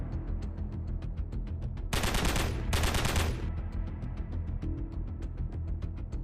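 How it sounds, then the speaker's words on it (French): Intense gunfire in a battle between Russian assault troops and Ukrainian defenders near a forest: rapid, regular shots run throughout, with a dense, louder burst of fire in the middle, all close and without any talk. "Une fusillade intense éclate entre les troupes d'assaut russes et les défenseurs ukrainiens."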